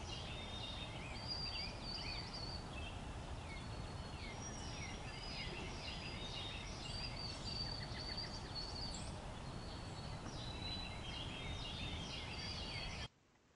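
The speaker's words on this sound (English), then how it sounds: "You'll hear a robin, a couple of robins in there too." Several birds singing on a wooded trail in April, Carolina wren and a couple of robins among them, repeated bright phrases and chirps continuing over a steady background hiss.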